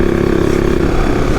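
AJP PR7 motorcycle riding off-road, a loud, close, steady engine drone with wind rumble throughout.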